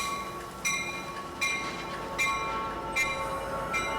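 Metrolink 111 commuter train rolls along the tracks, giving a steady rumble with regular metallic wheel clicks and faint squeal about every three quarters of a second, with no voices.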